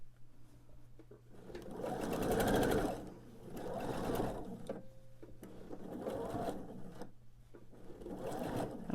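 Quilt rows are stitched together on a sewing machine in several bursts of fast, rhythmic needle chatter separated by short pauses, close and fairly loud over a low steady hum.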